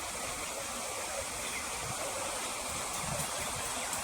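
The sacred Saryu river flowing past a crowded bathing ghat, a steady broadband rush of moving water, constant and fairly soft with no breaks and no talk.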